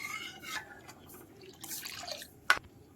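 Water drips while yogurt drains, a few faint scattered drops with one sharper splash near the end, close and quiet in a still room.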